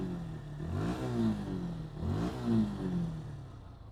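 A 2024 Suzuki Gixxer FI ABS motorcycle engine is revved twice in quick succession, each rise and fall clearly audible close by over a steady idle, with no talk.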